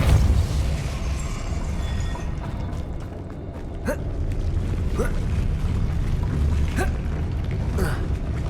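Depulso spell cast in the Hogwarts Legacy video game: several sharp magical bursts land a second or two apart over a steady, busy bed of game ambience.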